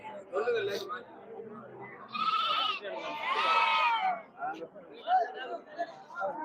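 Goats bleating at a busy Friday goat market in Ettayapuram, Thoothukudi district, Tamil Nadu: several loud, wavering bleats close by, one long and drawn out, over a steady crowd murmur and people talking.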